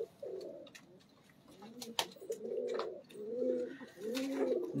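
Pigeons coo repeatedly in soft, throaty rolling phrases, close by, with scattered clicks and rustling between the calls.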